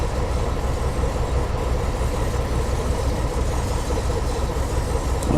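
An HST passenger train in Train Simulator's South Wales Coastal route slowly brakes toward a stop at a platform, a steady, loud rumble of engine and rolling stock continuing evenly throughout with no pauses.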